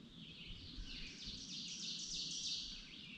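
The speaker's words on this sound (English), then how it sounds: "I got them on pause right now just to be able to hear the birds chirping" Birds chirping in the woods along a hiking trail, a steady run of thin, repeated high calls that carry on throughout at moderate distance with no talk.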